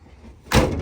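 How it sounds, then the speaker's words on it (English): A junked car's door springs open in a salvage yard, a single sudden clunk and rattling burst after a quiet moment, loud and close. "Inside door handle. Oh boy, that one just springs open."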